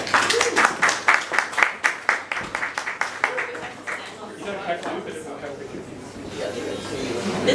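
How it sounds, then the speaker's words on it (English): A small audience at an evening drinks and pitch event claps for a startup, with sharp, distinct claps at the start tapering into a murmur of voices and fading applause. "So if we could give a warm round of applause,"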